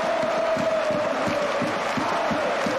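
Massed FC Porto ultras in a stadium clapping in a steady rhythmic beat under a sustained roar of cheering and chanting, loud and dense, with no talk.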